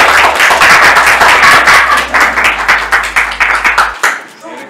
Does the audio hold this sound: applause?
yes